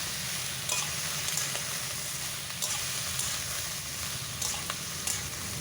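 Sliced snake gourd frying and being stirred in a pan, a steady close sizzle with light scraping of the spatula throughout and no voices.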